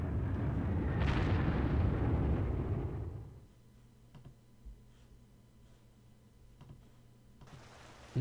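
Bombing explosion in the wargame Panzer Corps, a loud rumbling blast lasting about three seconds that fades out into quiet background hum with a few faint clicks.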